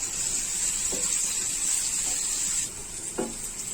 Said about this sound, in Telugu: ఈ కాకరకాయ ముక్కల్ని వేయించుకుందాము